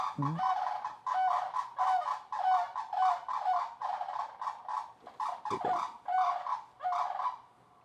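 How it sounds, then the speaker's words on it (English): Sandhill cranes living nearby give a run of loud, close calls, about eight rattling bursts in steady succession with short gaps and no talking. "We have some sandhill cranes who live back here and they're very loud."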